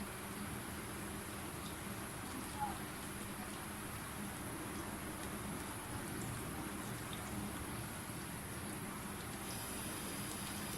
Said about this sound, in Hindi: मीडियम फ्लेम पे इसे फ्राई करें, ना बहुत हल्की ना बहुत तेज़।